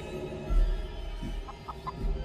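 A giant chicken clucking in a video game, a few short mid-pitched clucks spread over about two seconds against a low game background hum.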